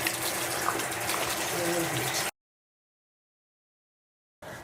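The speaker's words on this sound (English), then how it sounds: "we're going to wash our hands." Warm tap water running over hands being washed with soap, a steady close rushing flow that stops abruptly, leaving silence before the water briefly resumes.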